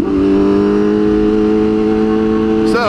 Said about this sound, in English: It is a big touring bike. It's not meant to go fast.